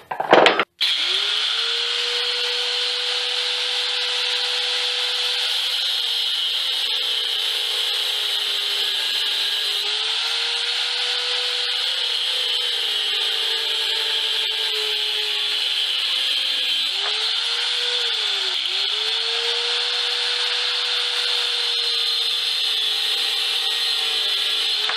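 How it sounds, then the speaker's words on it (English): An angle grinder cuts pieces off a steel dagger blank with a loud, sustained high whine that holds for about 25 seconds, dipping briefly a few times as the cut loads the disc. "Right now I'm gonna cut off this piece here and this piece here using my angle grinder."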